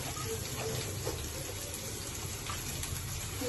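Running tap water pours steadily over green chillies being washed in a kitchen sink, a continuous close gushing with faint handling underneath.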